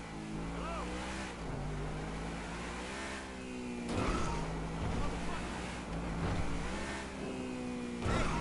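An untuned car engine drones and revs through gear changes in GTA 5, a steady hum broken by repeated rising whines and shifts, with a voice speaking over it.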